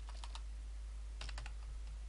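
Quick bursts of keystrokes on a computer keyboard, two short clusters of clicks separated by a pause, close and fairly quiet over a steady low hum, with no talking.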